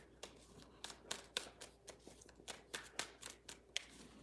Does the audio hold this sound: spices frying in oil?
no